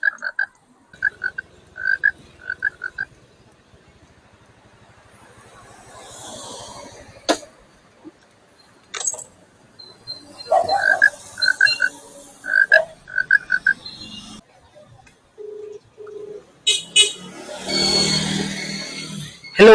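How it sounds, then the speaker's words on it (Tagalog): Frog croaking loudly and close by in repeated short rhythmic bursts, separated by pauses and scattered background noises. "May palaka."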